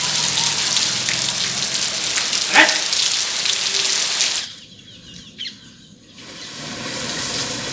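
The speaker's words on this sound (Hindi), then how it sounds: "आज सुबह जब सोकर उठा तो देखा बाहर बारिश हो रही है" Steady rain pours on a home courtyard in the morning, a dense close hiss of drops with water running outside; the downpour briefly drops away midway, then returns.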